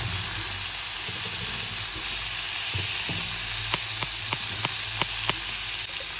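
Chopped onion, ginger and tomato frying in a pan, a steady close sizzle and hiss with a run of short spoon taps and scrapes against the pan toward the end, no voices.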